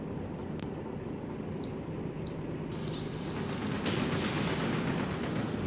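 Tank guns fire in a desert battle in the Graviteam Tactics war game, sharp distant reports cutting over a steady loud rumble of engines and wind, with a few crisp cracks spaced apart.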